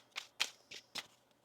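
Tarot cards are shuffled close up in four quick, crisp riffling bursts with short gaps between them, quiet and without talking.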